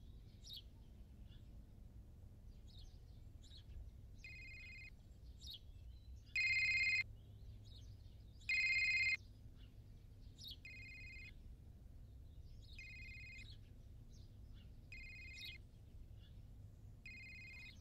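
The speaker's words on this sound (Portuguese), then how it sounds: "Atende o telefone." A telephone rings in repeated electronic bursts, two louder rings standing out among quieter ones, over a low ambient hum with faint bird chirps and no talking.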